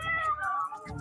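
A cat meows loudly and repeatedly from cat videos being played, with drawn-out wavering cries filling the short stretch close up.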